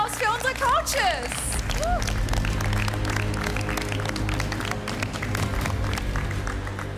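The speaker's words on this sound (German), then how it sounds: "Einen großen Applaus für unsere Coaches." An audience on a TV cooking competition set applauds the coaches. The clapping is loud and dense, with voices calling out over it at the start and music playing underneath.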